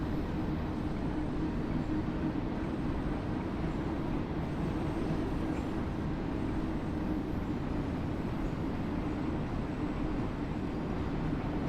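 Trains rolling through the Train Sim World 4 video game give a steady, loud rumble with a constant low roar that does not change, and no one speaks over it.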